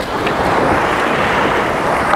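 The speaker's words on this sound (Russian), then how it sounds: "волны накрывают" Sea waves break on the shore at a beach in Vityazevo, Anapa, a steady close roar of surf and churning water mixed with wind buffeting the microphone, with no talk.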